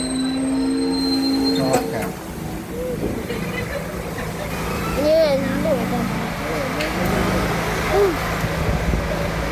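A train pulls into a station with a continuous low rumble and a few faint wheel squeals, while adults and someone talk nearby over it.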